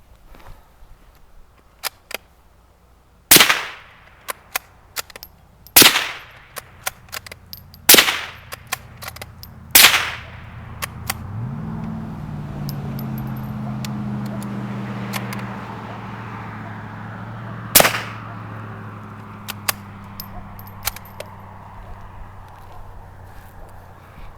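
Five loud, sharp rifle shots from a Marlin Model 80, spaced a few seconds apart, with faint clicks between them and a low vehicle hum rising in the middle stretch.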